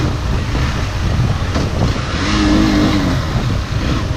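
A Hero Xtreme 200S motorcycle engine humming steadily while riding in economy mode, with a continuous drone and wind rush, rising slightly midway.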